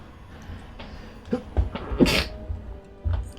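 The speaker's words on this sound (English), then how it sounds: "The one thing you don't want to do is sneeze during a cast." A caster sneezes during a StarCraft II pro tournament broadcast, a sharp, sudden close burst after some quiet shuffling and breathing.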